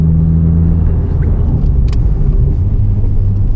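Subaru Impreza WRX STI on an ice track, its engine a steady low rumble throughout, loud and close, with no clear rise in revs.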